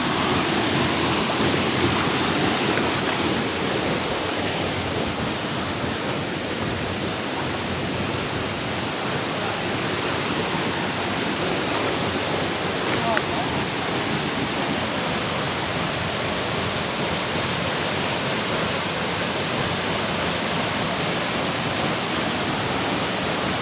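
A village waterfall roars in a steady, dense broadband rush that fills the whole scene, loud and unbroken, with no voices.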